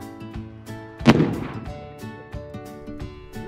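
A commercial explosives charge detonates in a single heavy blast that stands out above steady background tones and then fades over a couple of seconds.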